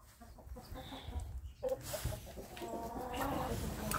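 Roosters and hens, including a New Hampshire cock, cluck and squawk on a farm in short overlapping bursts, fairly close, over a busy background of poultry noise.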